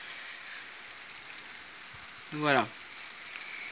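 A steady hiss of light rain before a thunderstorm in Pernois, northern France, in August, continues throughout, briefly interrupted by a single short spoken word.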